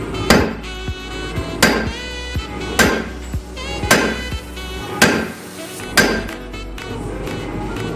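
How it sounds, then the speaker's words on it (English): A hammer forges a railroad spike on an anvil, with sharp ringing metallic strikes about once a second, loud and close, some followed by lighter rebound taps and no talk. "bring it down on an anvil and forge"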